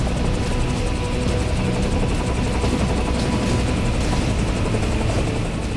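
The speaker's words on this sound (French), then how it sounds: "Poser un hélicoptère sur un navire est déjà un exploit délicat en aviation." Dense, steady rotor and engine roar of a helicopter landing on a ship during a storm, a loud continuous wash with faint rhythmic blade pulsing and no talk.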